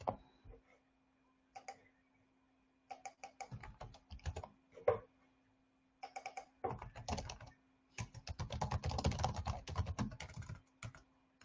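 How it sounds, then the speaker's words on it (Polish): Computer keyboard typing in quick, uneven bursts separated by short pauses, close and clear, with the densest run of keystrokes near the end and no talking. "Już chwilkę, tylko napiszę do Ani."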